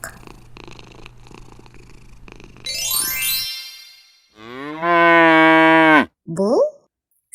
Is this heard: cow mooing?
yes